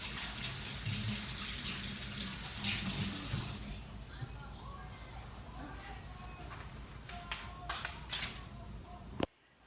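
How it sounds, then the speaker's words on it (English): Tap water runs in a steady broadband rush into a kitchen sink while hands are washed during fish cooking prep, loud for the first few seconds, then quieter and patchier, ending with a sharp tap-off knock. "Wash my hands here."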